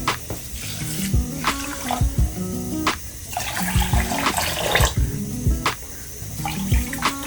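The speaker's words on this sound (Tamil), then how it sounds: "இப்போ இந்த பச்சரிசி நான் கழுவிட்டு" Raw rice being washed in water, sloshing and splashing in a vessel with irregular swishes and faint knocks, steady throughout, close by, with no talking.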